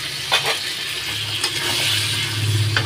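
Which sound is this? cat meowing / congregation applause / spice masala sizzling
spice masala sizzling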